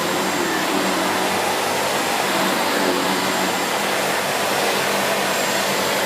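A SEBO Felix upright vacuum cleaner runs continuously downstairs in a home, a loud, steady whine with no pauses or voices.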